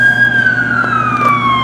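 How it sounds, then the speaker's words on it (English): A New York City emergency vehicle siren wails loud and close, its tone gliding steadily downward with no voices over it. "so we're hearing a siren"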